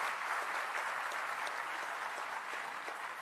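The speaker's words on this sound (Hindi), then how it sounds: "आप एक बार जोरदार तालियां हिंदी के लिए बजा सकते हैं।" Loud sustained applause from an audience at a Hindi language event, a steady wash of many hands clapping together, no voices above it.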